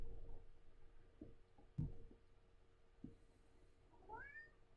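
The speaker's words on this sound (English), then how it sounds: "Yes, the cat hears me speaking to you, and she must get in on it." A house cat meows several times, faint and close indoors, with short separate calls spaced across the moment and a rising, higher-pitched meow near the end.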